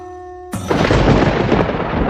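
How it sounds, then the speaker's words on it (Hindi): Loud thunder crashes in suddenly with rain during an unseasonal storm, a sustained rumbling roar over steady downpour that follows a brief quiet, steady tone. "स्वामी, ये बिना मौसम की गरजती हुई बारिश हमें क्या संकेत देती है?"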